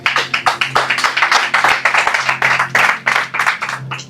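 A church congregation claps in a steady, brisk rhythm, many hands striking together in quick repeated beats at close range, filling the room without any voice over it.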